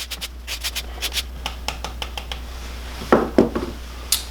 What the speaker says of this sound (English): we'll just mix all that together until it's combined